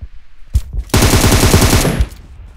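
Loud automatic gunfire in PUBG, with a few sharp single shots followed by a sustained rapid burst lasting about a second, close and dominant with no talk.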